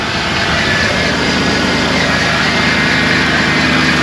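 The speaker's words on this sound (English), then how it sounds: "The engine sounds pretty good" A Chrysler Jeep 3.7 L engine runs steadily at idle with a constant, even drone and no misfire, close up and loud throughout.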